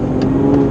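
An Aston Martin DB9 Volante's engine and exhaust hold a rich, steady revving drone, close and loud, for a brief moment with no talking.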